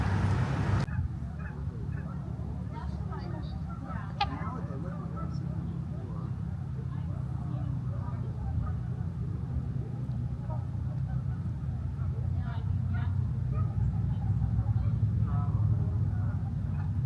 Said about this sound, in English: Lots of people here watching all the geese and the swans.